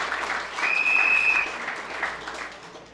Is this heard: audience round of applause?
yes